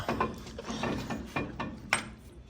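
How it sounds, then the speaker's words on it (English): A C-clamp cranked down during a brake rotor swap to drilled and slotted rotors, giving several separate ratcheting clicks and scrapes at an uneven pace, close and fairly quiet. "take your C-clamp and tighten it just like such"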